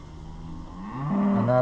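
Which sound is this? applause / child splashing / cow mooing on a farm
cow mooing on a farm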